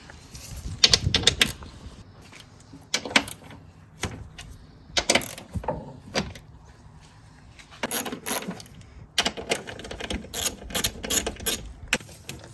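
Ratcheting socket wrench working on front air suspension strut bolts of a Mercedes CLS550, heard as short bursts of rapid mechanical clicking separated by pauses, close and moderately loud.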